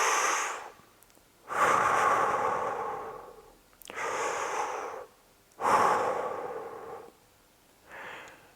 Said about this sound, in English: You're gonna perform big, deep belly breath, expanding it when you breathe in and squeezing in when you are breathing out.